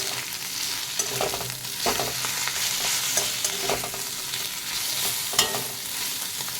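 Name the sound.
stirring fish head with salt, turmeric and chili powder in pan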